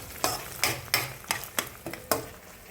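Ginger garlic paste and mint fry in a pan, soft sizzling broken by six regular scraping stirs of a spoon, close and fairly quiet.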